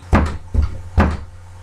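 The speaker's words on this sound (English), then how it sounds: "Here's a knocking indeed." Three loud, close knocks on a wooden door, spaced evenly at slightly under half a second apart, each a heavy thud with a short ring-off, nothing else in between.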